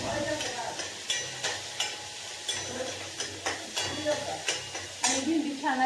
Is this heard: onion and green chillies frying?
yes